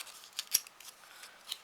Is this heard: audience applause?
no